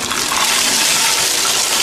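Water gushes out of a supermarket waste shred press, a loud, steady, hissing rush that holds constant without a break and has no voices over it.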